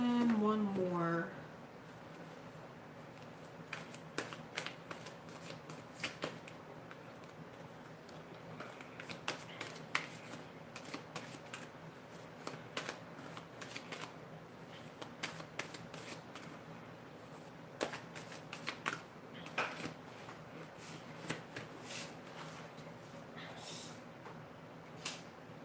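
Tarot cards shuffled by hand in bursts of crisp riffling and tapping, close and fairly quiet, with a short vocal sound at the very start.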